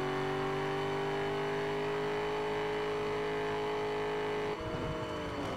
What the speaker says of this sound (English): It sounds vaguely like a V8.